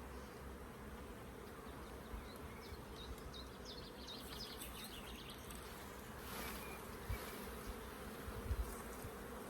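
Honey bees hum faintly and steadily around frames lifted from a busy hive, a low continuous drone with a few soft knocks and no voices.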